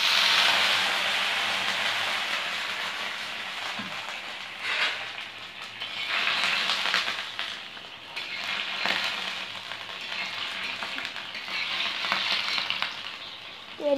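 Water sizzles loudly on a hot stone dosa griddle as it is washed, a continuous hissing fry that surges in several waves over the stretch.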